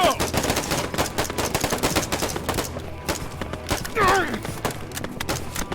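Rapid automatic gunfire in a Vietnam War video game, dense overlapping bursts of shots crackling close and continuous, with a brief voice cutting in midway.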